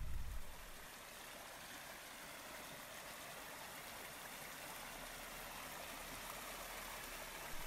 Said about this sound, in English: not sounds like this quietly running stream that I camp next to in the Sierras